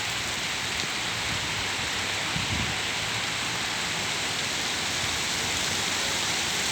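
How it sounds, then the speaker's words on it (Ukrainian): Steady, dense rain pours down close by on a Kyiv street, a continuous hiss with no voices, unchanging throughout. "послухайте музыку дождя"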